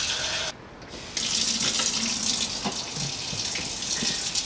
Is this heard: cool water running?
yes